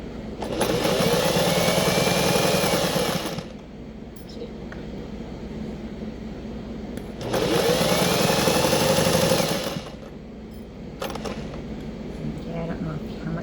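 A home sewing machine stitches fabric for a McCall's M8090 garment in two loud, steady motor runs of about three seconds each, separated by quieter pauses with handling noise.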